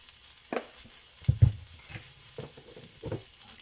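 Vaghareli khichdi, sauteed rice and lentils, is stirred in a pan, with faint sizzling beneath soft scraping and a few light knocks of the spoon, quiet and close.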